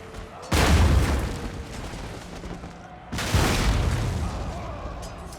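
Cannon fire in the game Total War: Empire, with two heavy booming volleys that leave a long rumbling, crackling tail of battle noise between them.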